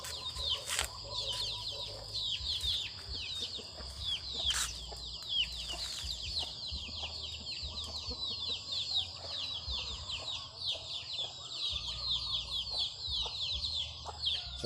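Hens cluck and chatter steadily in a busy chorus on an integrated farm in the early morning, with occasional sharper squawks and a low background hum throughout.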